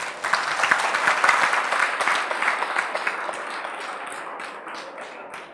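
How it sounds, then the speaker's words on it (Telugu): Audience applause at a Telugu health talk, a broad wash of many hands clapping that swells early, then slowly thins and fades over several seconds, with no voice over it. "చప్పట్లు తట్టండి అయ్యా"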